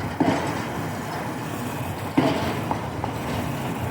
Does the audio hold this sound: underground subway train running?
yes